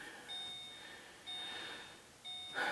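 A 1994 SAAB 9000 sounds its SRS warning chime: three evenly spaced, faint electronic beeps in a quiet interior.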